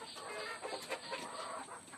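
Desi country chickens clucking softly at a small farm, faint, scattered calls over a quiet background hiss, with no voices.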